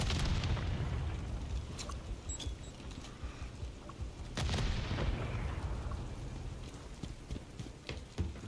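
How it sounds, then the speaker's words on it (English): A grenade goes off in the Modern Warfare 3 campaign, a loud broadband blast midway through that rumbles and slowly decays amid continuous noisy game combat. "Grenade out, let's go."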